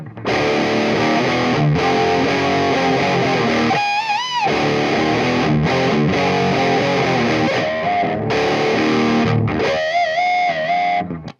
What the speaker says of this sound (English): That guy was getting some power tube distortion there